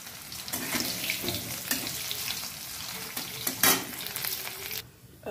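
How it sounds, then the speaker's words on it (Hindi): Potatoes fry in a pan on a home stove, a constant close sizzle with occasional clinks and stirring scrapes, cutting off abruptly near the end. "अब इधर हमारी आलू भी फ्राई हो चुकी है"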